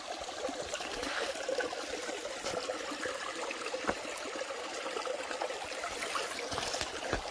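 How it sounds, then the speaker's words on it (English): Continuous trickling and babbling of a creek flowing along the Appalachian Trail near Glasgow, Virginia, steady and close, with small splashes rising out of the rushing water and no voices. "The creek just goes on down through there. Hear the water flowing."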